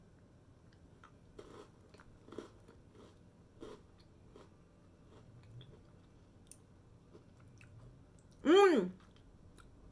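Dark chocolate kruidnoten spice cookies are bitten and chewed up close: soft, faint crunches come roughly once a second, and a short hummed voice follows near the end.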